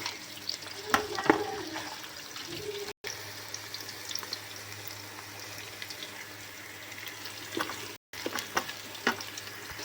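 Bay leaf, cloves, pepper and other whole spices fry in a pan while being stirred, a soft steady sizzle with scattered scraping taps and brief dropouts, close and quiet with no talking.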